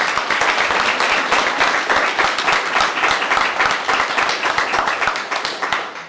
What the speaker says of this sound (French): je propose qu'on l'applaudisse pour ça